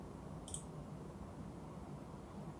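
A single faint, sharp mouse click sounds once against a quiet background hum while a save button is pressed in an education administration web system.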